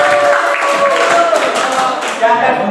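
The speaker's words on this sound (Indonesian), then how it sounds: "Tepuk tangan" Students in a classroom applaud a classmate's answer with a short, lively burst of clapping mixed with excited voices, close and fairly loud.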